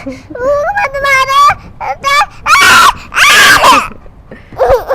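A little girl screams and shrieks in loud, high, wavering bursts after a big insect climbs onto her outdoors near soil, with several separate cries and a final yelp close to the listener.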